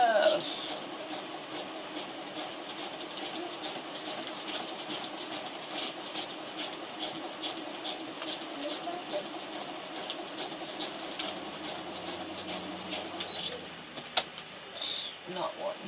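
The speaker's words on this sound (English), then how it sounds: "I'm going to sew right over them beans. Those pork and beans, sew right over top of them." A sewing machine stitching through newspaper, a steady mechanical whirr and rapid needle clatter running continuously, with a person talking quietly over it.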